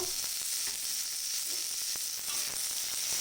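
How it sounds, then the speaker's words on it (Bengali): Dried red chillies, nigella seeds, chopped peanuts, green chillies and soaked chickpeas fry in hot oil for a vegetarian taro-leaf dish, giving a steady close sizzling hiss with scattered crackles and pops, no voices. "তেল গরম হয়ে গেছে শুকনো লঙ্কা কালো জিরে বাদাম কুচনো কাঁচা লঙ্কা ছোলা ভেজানো"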